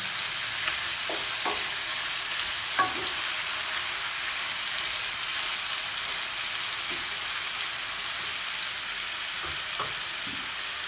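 Pork adobo meat cooking in a pan, a steady soft broadband sizzle with a few faint clinks and stirring taps scattered over the sizzle.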